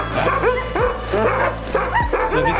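Sled dogs near a lake in Yakutsk bark and yip excitedly in a loud, dense chorus of overlapping high yelps and whimpers, close and continuous.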